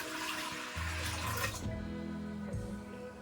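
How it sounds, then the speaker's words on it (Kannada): Water pours steadily into a cooking pot in a home kitchen, a continuous loud splashing stream whose pitch shifts as the pot fills, with no talking. "ಇವಾಗ ನಾನು ಇದ್ರಲ್ಲೇನೆ ಫುಲ್ಲು ನೀರ್ ಹಾಕೊಳ್ತಾ ಇದ್ದೀನಿ"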